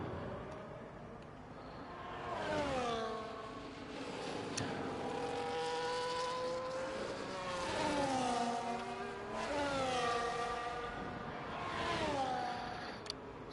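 F1 race cars in a racing video game run their out laps at the Canadian Grand Prix, several high-pitched engine notes rising and falling in repeated sweeps as cars accelerate and shift, passing at moderate distance with steady background drone and no talk.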